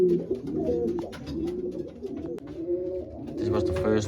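Racing pigeons cooing steadily at their home loft after returning from a race, a close chorus of soft, throaty coos and murmurs with occasional flutters, faint voices mixed in.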